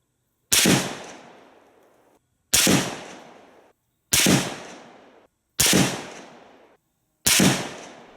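Five suppressed rifle shots through a Rugged Surge 762 silencer, loud and close, evenly spaced about every 1.6 seconds, each a hard crack with a fading tail, no talking.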